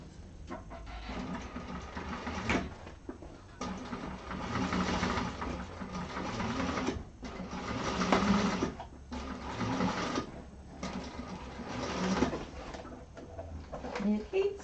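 A sewing machine stitches a seam in vinyl handbag lining, its rapid mechanical whirr running in bursts of a few seconds with brief pauses between, close and moderately loud, while someone talks over it.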